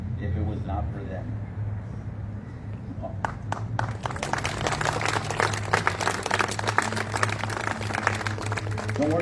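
Audience applause at a city State of the City address in Douglas, Arizona, starts after a few quiet seconds of room noise, then builds into sustained, crisp clapping from many hands.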